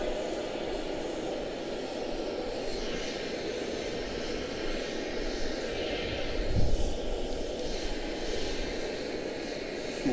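A heavy jet airliner departs Charlotte-Douglas airport at night, its engines a steady, distant broadband roar that swells slightly midway, heard alone with no talk.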